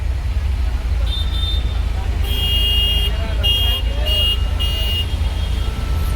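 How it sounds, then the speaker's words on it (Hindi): Congested Mumbai traffic rumbles steadily while car horns sound repeatedly, a short toot followed by a series of several quick, fairly close honks at mid-level over the engine noise, with other vehicles around. "भाई मुंबई में ट्रैफिक बहुत है।"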